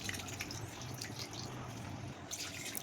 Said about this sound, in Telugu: కొద్దిగా వాటర్ వేసుకుని